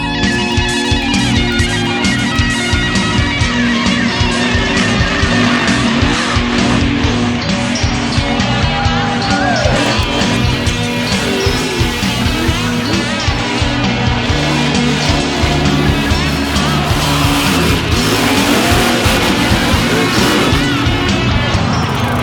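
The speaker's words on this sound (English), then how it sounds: "Up next, the Overdrive monster trucks do battle by twilight" Overdrive monster trucks battle at twilight at the Butler Farm Show in western Pennsylvania, huge engines roaring and revving loudly and continuously, with crashes and impacts scattered throughout.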